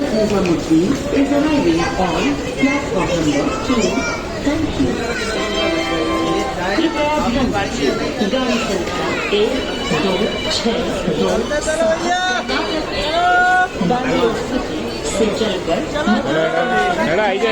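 A dense crowd at Vrindavan keeps up steady overlapping chatter and voices, loud and close throughout, with several people talking nearby.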